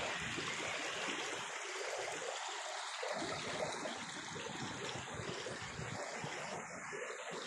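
A river with trees growing in its middle flows steadily at dawn in Marinduque, a continuous broadband rush of water with no pauses and no talking.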